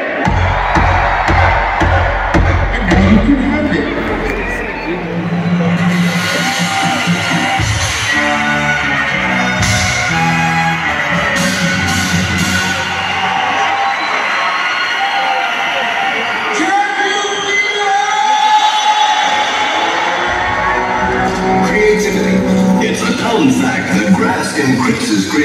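Concert crowd at a live show at AO Arena, Manchester, screaming and cheering loudly in waves, with amplified music and shouted voices mixed in throughout.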